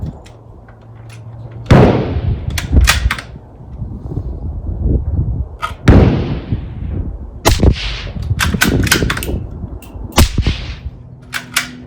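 .22 rifle shots through a B&T TiGER22 suppressor outdoors, several sharp cracks spaced a second or two apart, each with a brief airy tail, loud and close with no talking.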